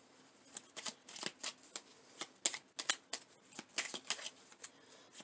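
Cards from a Making Magic oracle deck being shuffled by hand, a run of quick papery riffles and slaps close to the microphone, steady and crisp with no talking.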